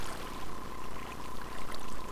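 Water flows steadily in a Minecraft cave, a continuous rushing stream heard alone at moderate level.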